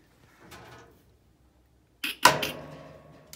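Pliers working loose a flex line to the rear rotisserie igniter of a Blaze grill: a soft faint scrape, then a pause, then a couple of sharp metallic clicks and a brief grinding rasp close by.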